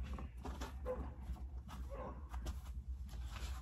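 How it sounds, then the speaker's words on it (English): Puppies bark faintly in short, scattered bursts, sounding somewhat distant in a quiet indoor setting during animal feeding. "the puppies are barking at Sassy."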